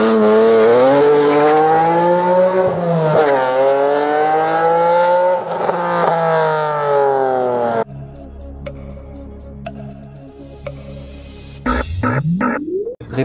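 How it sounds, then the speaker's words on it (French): A BMW inline six-cylinder engine revs loudly and up close, its pitch climbing and falling in repeated sweeps before the sound changes to a rougher idle and a final rising rev. "Réponse numéro 16, c'est le bruit du mythique 6 cylindres en ligne BMW."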